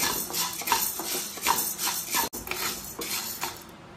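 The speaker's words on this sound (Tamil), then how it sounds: "இந்த உளுத்தம் பருப்பையும் ஒரே மாதிரி நம்ம வறுத்து எடுத்துக்கணும்" Urad dal being dry-roasted and stirred in a pan over low heat, a metal spoon scraping and clinking against the pan in repeated strokes, close and fairly loud with no talk.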